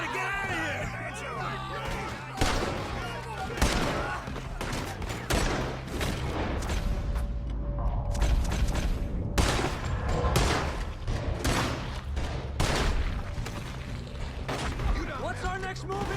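Rapid gunfire in a shootout in Red Dead Redemption 2, repeated sharp shots cracking in irregular bursts against a low musical bed, with voices shouting and talking throughout.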